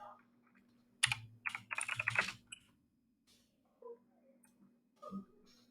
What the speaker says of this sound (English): My mic's really close to the keyboard.